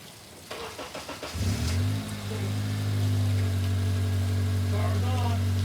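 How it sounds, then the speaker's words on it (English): A car engine cranks with a short burst of starter chatter, catches, and settles into a steady, loud idle that hums on alone. "Let me start the car and see what I got."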